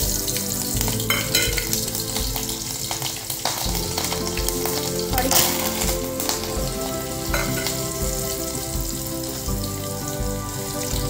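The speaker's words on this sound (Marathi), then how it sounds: "गरम तेलामध्ये राई टाकलेली आहे, थोडं मिर्च," Mustard seeds and chilli crackle in hot oil for a tempering, making a loud, busy sizzle full of sharp pops and spits that continues without a break and with no talking.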